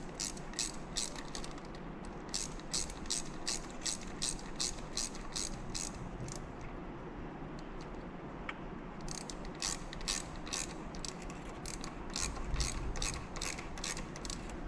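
A ratchet tightens a bolt on a Wolfewerks front mount radiator kit, a fast regular clicking in repeated bursts with a short pause in the middle, close and clear.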